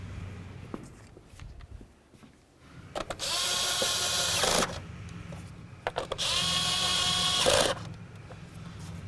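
Power tool driving two mounting bolts into a 2007–12 Nissan Sentra engine cover, two sustained whirring bursts of a few seconds each separated by a short pause, close and loud over quiet shop background.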